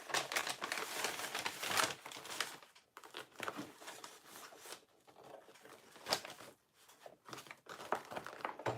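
Paper shifts and crinkles at a sewing table, with close, busy bursts of rustling and crumpling coming in uneven waves and brief pauses between handlings.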